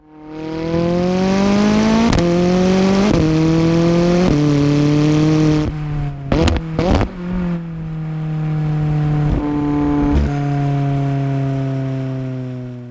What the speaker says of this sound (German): erzeugt mit der von der Formel 1 abgeleiteten Ignition-Car-Technologie als gezielte Unterbrechung des Zündfunken noch schnellere Gangwechsel und den markerschütternden Knall beim Schaltvorgang